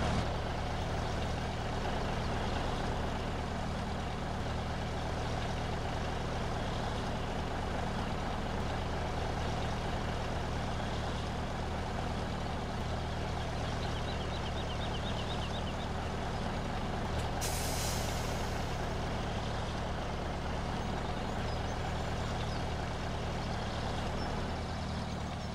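Garbage truck on a municipal waste collection round, a loud steady diesel engine rumble throughout with a sharp hissing air-brake release partway through, heard close by.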